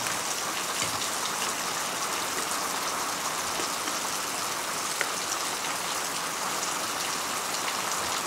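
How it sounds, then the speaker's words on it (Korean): Heavy rain pours steadily onto surfaces outdoors during a barbecue, a dense, even hiss of drops that never lets up, with no talking. "비가 정말 많이 오네요."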